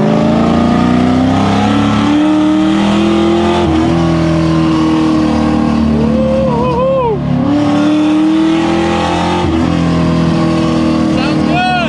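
A loud Pontiac engine revs hard and accelerates close by, its pitch climbing and dropping between gear shifts.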